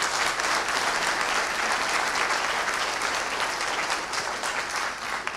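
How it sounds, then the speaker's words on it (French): Sustained audience applause in a hall during a university's 50th anniversary ceremony, many hands clapping in a thick, continuous wash at steady loudness from start to finish, with no speech over it. "vous pouvez l'applaudir"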